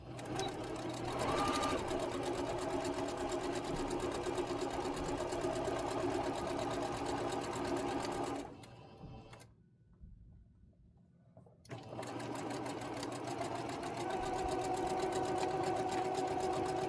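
Vintage sewing machine stitching quilt strips, a loud steady mechanical whir of rapid needle strokes that halts briefly for a couple of seconds near the end and then resumes.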